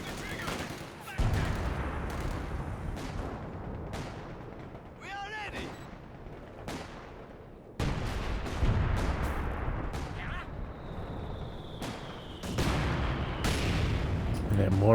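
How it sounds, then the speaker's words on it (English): Mortar pit artillery in the real-time strategy game Company of Heroes 2 fires in a 2v2 match, repeated heavy booming volleys and scattered gunfire crashing through a continuous wash of battlefield noise, with a voice talking over it. "And that mortar pit coming in now."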